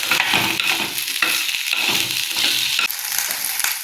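Okra sautés in a village-style pan, a bright steady sizzle under rhythmic scraping and stirring strokes, close and fairly loud, with no voices.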